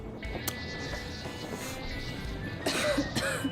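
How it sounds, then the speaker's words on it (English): A woman coughs and clears her throat in a video game scene, a few harsh bursts around a rough breathy stretch near the end, heard close and alone without talk. "Damn coughing."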